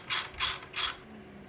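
Three quick ratcheting bursts as threads on water pump studs on a 1974 project car are cleaned up with a hand tool, close and crisp with short pauses between them.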